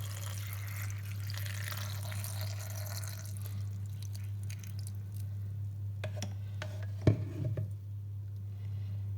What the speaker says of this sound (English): So next thing I'm going to do is add in cold water.